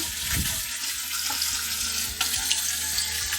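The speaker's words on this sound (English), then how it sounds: "I'm just gonna rinse my hands off here." Water runs steadily from a kitchen tap while someone rinses buttery hands at the sink. The gushing, splashing flow stays close and continuous, broken only by small shifts as the hands move under the stream.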